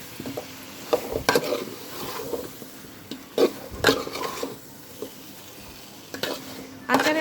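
Ripe mango pickle stirred with pure local mustard paste in a pan, with a gentle sizzle under uneven scraping and sloshing strokes of a spoon, several sharper knocks against the pan, close by and with no talk.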